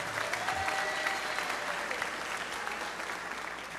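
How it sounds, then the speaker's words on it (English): A crowd at a school graduation ceremony claps for the class president, a brief, continuous burst of many hands at moderate loudness with faint murmuring beneath. "please give her a round of applause."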